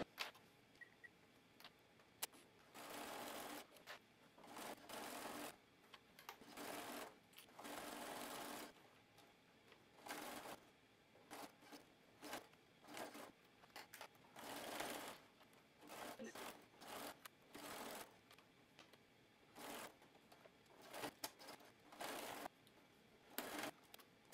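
A sewing machine top stitching runs in repeated bursts of rapid mechanical stitching, starting and stopping with short pauses between runs, close and clear.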